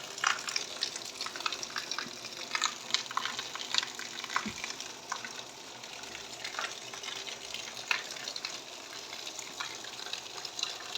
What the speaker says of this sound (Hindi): आज मैं बारिश चालू है, देखो बरसात चालू है, कितनी तेज है।